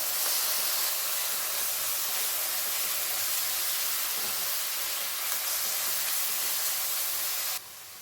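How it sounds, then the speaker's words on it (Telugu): Ginger garlic paste with coconut sizzles in a pan for Andhra-style fish curry, a steady loud frying hiss that carries on evenly and cuts off near the end. "అల్లం వెల్లుల్లి పేస్ట్ వేసుకున్నాం. ఇప్పుడు ఇది కొంచెం అట్లా వేగాలి."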